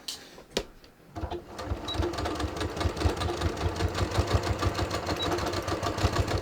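A sewing machine stitches a back tack on a yoga-pants-style waistband for ready-to-wear jeans, starting after a short pause and then running in a steady, rapid mechanical rhythm close to the mic.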